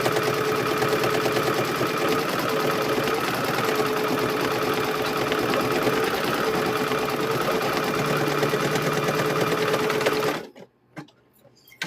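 A sewing machine top-stitches around a quilt square, running in one steady, loud, continuous mechanical whir for about ten seconds before it stops abruptly, leaving near silence with a few faint clicks.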